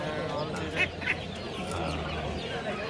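Chickens and chicks clucking among a crowd at a rooster market in Kara Kamish, with dense overlapping bird calls, a couple of sharper cheeps standing out, and a steady murmur of voices underneath.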